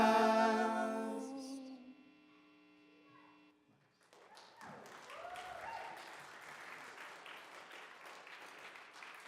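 Faint, distant audience applause for a band at a livestreamed performance, rising as the music fades out and continuing as a soft, steady patter of clapping.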